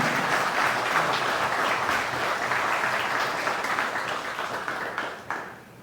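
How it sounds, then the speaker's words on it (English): An audience applauds a serviceman, Corporal J. Jairam, at a service medal ceremony in Guyana: dense, steady clapping from a crowd that holds level for several seconds and then thins out toward the end. "ask all of us to applaud this serviceman"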